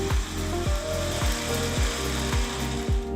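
A mixer grinder runs loudly up close, grinding soaked sorghum without water, its drone punctuated by regular heavy knocks roughly every half second as the contents churn.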